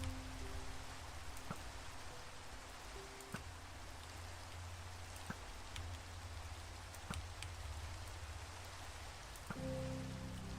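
Steady rain from the Minecraft video game hisses evenly throughout, a dense broadband patter with a few brighter drop ticks and a faint low tone entering near the end.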